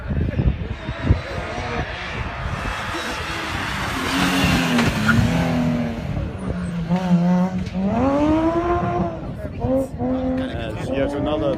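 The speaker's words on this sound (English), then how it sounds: "As yet another BMW goes past us" A BMW rally car on a rally stage approaches and passes, its engine note rising and falling through quick revving gear changes, loud and close, while a commentator talks over it.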